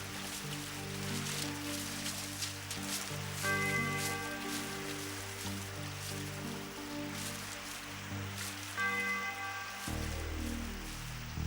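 Cartoon rain hisses steadily and evenly beneath sustained music in a Hindi-dubbed Lion King jungle episode, a soft wash of falling drops throughout.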